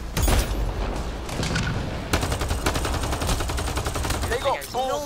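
Gunfire in Mass Effect Andromeda, a loud opening blast followed by sustained rapid automatic shots in a steady rhythm, with sci-fi weapon whines near the end.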